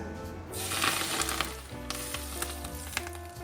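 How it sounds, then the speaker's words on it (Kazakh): Hot oil poured over a salad seasoned with coriander, salt and soy sauce: an immediate close crackling sizzle that bursts up loudly, then settles into a steady hiss with scattered pops. "Және сұйық майымызды отта қыздырып үстіне құямыз."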